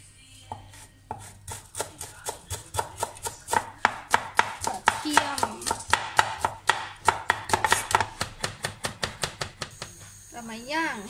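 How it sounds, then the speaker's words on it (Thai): Fresh parsley, washed and dried, is chopped with a knife on a board for grilled parasol mushrooms: a steady run of dozens of quick, crisp knife strikes, close and fairly loud, speeding up towards the end, with no talking. "ตัดพาสลีย์เตรียมไปใส่เห็ดย่าง"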